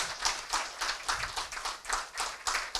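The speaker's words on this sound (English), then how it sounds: "I believe a resounding applause is in order." An audience at a Ghanaian swearing-in ceremony for the Administrator of the District Assemblies Common Fund claps, the applause swelling in regular, pulsing bursts at moderate loudness.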